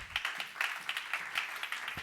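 A church congregation clapping along in rhythm, a run of quick, bright, fairly even hand claps from many people, moderately loud and steady for a couple of seconds.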